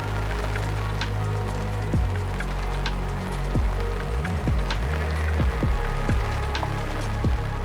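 Rain falling at a lakeside fishing swim amid dense weed at Wyreside Lakes, a steady soft patter spread evenly across the whole stretch, fairly close, with a few sharp low knocks and drips standing out, no voices.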